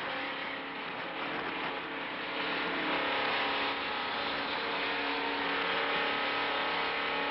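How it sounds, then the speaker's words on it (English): Steady engine roar from inside the number 36 race car running under the yellow flag during the 1970 Firecracker 400 at Daytona International Speedway, a dense continuous drone at moderate level with no talking. "Remember, you're listening to Dr. Don Tarr speaking from inside his race car as they proceed under the yellow flag."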